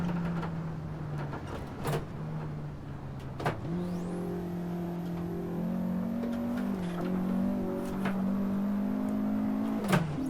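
A Vauxhall VX220 (Opel Speedster) engine drones steadily at high speed in the Assetto Corsa racing game, its pitch holding level with small shifts and a few brief bumps, loud and continuous with no talk.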